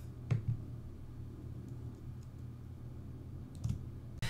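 Mouse clicks on a Mac, a few soft, sharp taps near the start and end over a quiet room hum.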